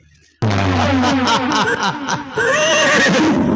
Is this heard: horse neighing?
yes